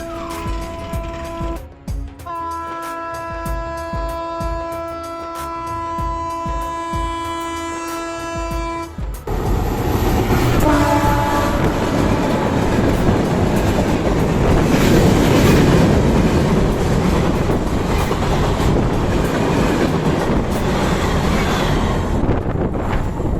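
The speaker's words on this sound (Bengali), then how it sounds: "বন্ধুরা, ট্রেন আসছে। ট্রেনের শব্দ শুনতে পাচ্ছি।" A train approaching and passing on railway tracks, first sounding a long, loud multi-tone horn for several seconds, then a powerful close roar of wheels and rushing wind that fills the rest of the passage.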